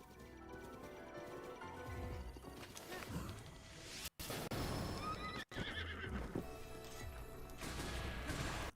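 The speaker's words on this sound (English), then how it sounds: "there's a freaking Boko on a horse over here, too" A horse ridden by a Bokoblin in Zelda: Breath of the Wild whinnies loudly amid hoofbeats and busy combat noise, with two brief sharp breaks in the sound.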